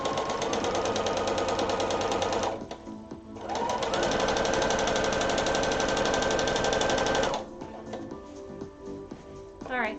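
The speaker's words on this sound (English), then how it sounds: "We're going to do some basting. It means I'm putting it at the highest stitch length." Sewing machine basting at its longest stitch length, running loud and fast in two long continuous bursts separated by a brief pause, close up, with a few quieter stitching moments near the end.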